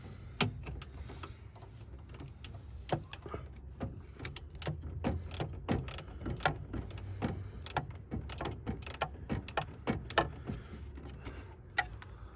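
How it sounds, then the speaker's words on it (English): Rapid, irregular metallic ticks and clicks from a hand tool loosening the two screws at the bottom of a Mitsubishi Pajero intercooler, close and fairly quiet, continuing steadily for about twelve seconds with no talking. "there's just two screws at the bottom of the intercooler. We'll undo those and it should just drop out"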